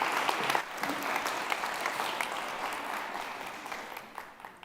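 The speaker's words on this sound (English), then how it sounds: "Huge round of applause for an amazing talk." Audience applause after a talk at a research event, a dense burst of clapping from a crowd that starts strong and gradually fades over several seconds.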